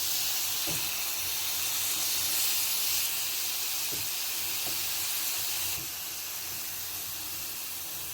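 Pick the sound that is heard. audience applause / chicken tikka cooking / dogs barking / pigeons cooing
chicken tikka cooking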